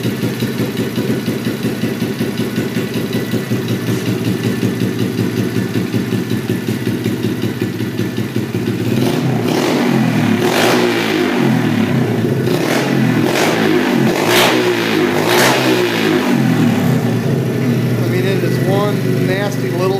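A BBR 106cc motorcycle engine idles steadily, then revs in a series of repeated throttle blips from about the nine-second mark, running close and loud with a voice talking over it.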